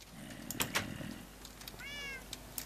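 Cat meowing in Minecraft, a pair of short meows followed by a longer drawn-out one, fairly faint against soft background game noise.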